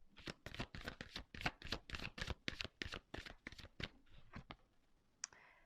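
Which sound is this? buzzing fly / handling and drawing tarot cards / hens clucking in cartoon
handling and drawing tarot cards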